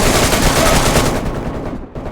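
Loud, dense gunfire from the video game DayZ crackles in rapid overlapping bursts before thinning out and dropping away briefly near the end.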